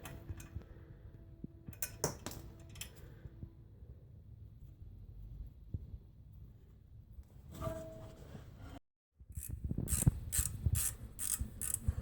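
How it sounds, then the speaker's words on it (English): Brake disc retaining screw being driven in while replacing rear brake pads and discs on a VW with an electronic parking brake, with close metallic ratcheting clicks and ticks in intermittent bursts. "So let's take this disc and put the screw in."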